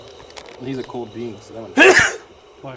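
A single loud, sharp sneeze bursts out around a table of tabletop role-playing players, briefly rising over their ongoing conversation, with people talking before and after it.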